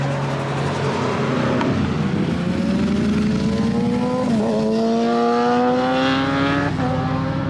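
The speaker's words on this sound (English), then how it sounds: "Here comes more bikes" Motorcycles passing by on a road one after another, engines rising and falling in pitch as they approach and recede, loud and close throughout.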